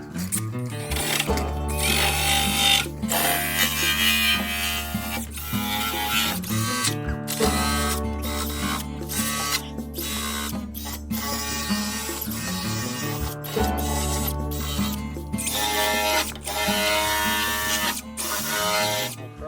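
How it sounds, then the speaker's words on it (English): Purple strip pads on a power tool grind paint and rust off the metal of a square body truck rocker panel, a loud continuous whirring drone broken by several brief stops and restarts. "These purple ones do a really good job of taking down the paint and rust, getting us back down to clean metal."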